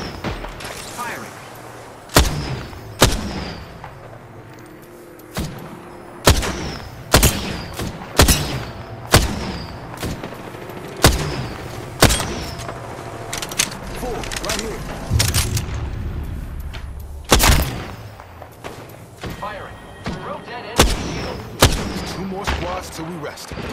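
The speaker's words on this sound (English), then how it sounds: "The enemies are shooting at me." Gunfire in the battle royale shooter Apex Legends, sharp loud shots and booming bursts spaced every second or two over a steady background, with voices talking in between.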